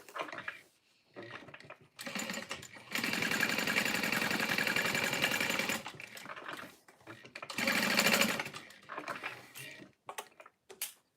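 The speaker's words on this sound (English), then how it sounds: "Sewing in an L so I can flip it through." A sewing machine runs in two long bursts while stitching an L-shaped seam on a slip pocket, with short pauses and lighter stitching between the runs.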